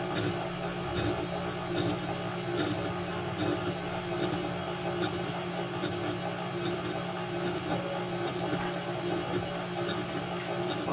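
A KitchenAid stand mixer with an ice cream attachment churns with a steady mechanical whir and grinding, faint rhythmic thumps repeating every second or so, constant and fairly close.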